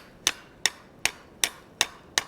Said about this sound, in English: we'll go ahead and hammer it